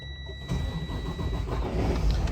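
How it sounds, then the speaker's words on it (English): A 2017 Freightliner Cascadia truck's DD15 diesel engine cranks and catches, then settles into a loud, steady rumbling idle, close by. "let's have a listen to this engine start up"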